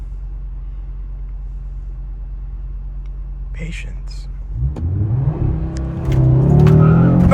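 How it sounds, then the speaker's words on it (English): A 2026 Audi RS3 idling with a low rumble, then its revs building and the car launching hard with a loud, rising engine roar, while someone says a brief word. "foot on the brake, build up the revs, and let's see what we do."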